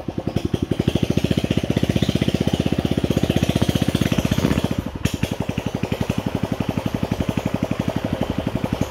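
A small engine runs loudly and close at a steady rapid chugging beat, with a brief dip midway, during rattan tip cutting along the Sen River.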